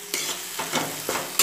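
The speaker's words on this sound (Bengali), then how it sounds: "টমেটো কুচিটা দিয়ে মশলার সাথে ভালো মতো মিশিয়ে দেব" A spoon stirs chopped tomato into sizzling spice paste in a pan, the steady frying hiss punctuated by several scraping strokes spaced a few tenths of a second apart, close and fairly loud.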